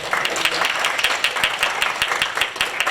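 An audience applauds their college leader at a staff reunion event, a dense sustained round of many hands clapping at close to moderate distance, steady and lively throughout with no voices rising above it.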